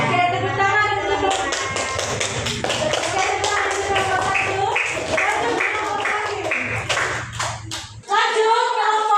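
Classroom applause, a run of sharp rhythmic hand claps under loud children's voices calling out together, which cut off abruptly near the end before a brief burst of noise.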